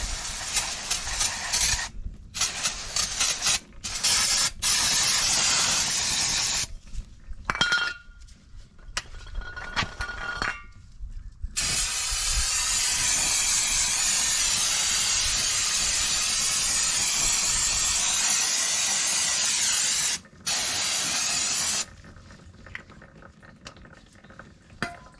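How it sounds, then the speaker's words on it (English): Non-chlorinated brake parts cleaner sprayed onto the rear drum brakes of a 1989 Chevy K1500, loud hissing aerosol bursts starting and stopping, some long and some short, with faint metallic clinks between. "So I'm just using just normal brake parts cleaner. This is non-chlorinated."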